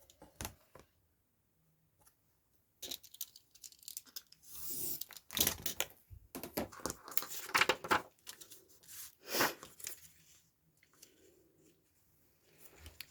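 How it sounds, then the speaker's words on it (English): Scissors cut a straight edge along paper or card while starting a bunnies and botanical project, giving a few close, crisp snips and rustling passes with short pauses between them. "Let's just cut that edge straight."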